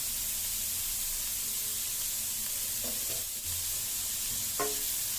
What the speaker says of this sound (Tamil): இப்போ இதை நல்லா மிக்ஸ் பண்ணி விட்டுறலாம்.